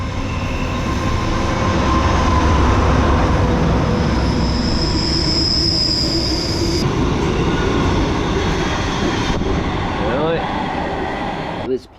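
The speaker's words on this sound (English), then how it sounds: "Here comes the freight train." A freight train passing close by a gravel cycling spot in the Glass House Mountains, Queensland, a loud continuous rumble and rattle of wagons with wheel squeal that lasts the whole stretch.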